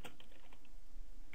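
Quick burst of keystrokes on a computer keyboard, several light clicks close together at the start before trailing off into quiet room tone.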